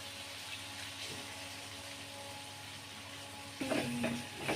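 Eggs frying with ginger garlic paste in a pan, a steady broadband sizzle throughout, with a louder burst of scraping and stirring near the end.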